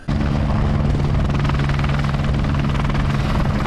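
A helicopter flies low during a car chase stunt on a dual carriageway, its rotor chop a loud, steady roar throughout.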